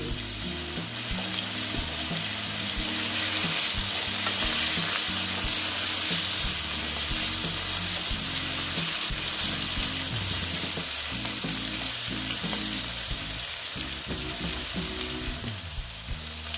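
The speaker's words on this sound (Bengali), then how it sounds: "দেখো বন্ধুরা, আলুটা ভাজা হচ্ছে।" Potatoes frying in oil with turmeric: a continuous, close, even sizzle with no talk for the whole stretch, over low, steady background tones.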